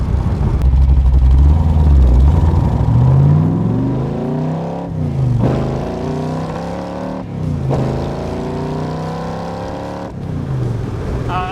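A 1965 Backdraft Cobra sports car engine revs hard and climbs through several gears, loud and close, with brief dips at each shift before rising again.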